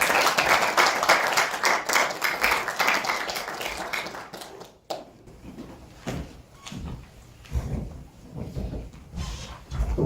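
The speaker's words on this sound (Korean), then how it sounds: "우리 박수로 모시겠습니다" An audience at a church ministry forum breaks into hearty applause welcoming a professor to the podium. The clapping is dense and close for several seconds, then thins out into scattered knocks and shuffling movement.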